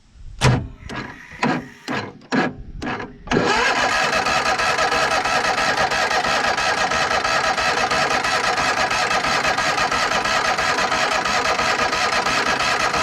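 Small engine fed with carb cleaner cranks in several short bursts, then fires and keeps running steadily and loudly close by.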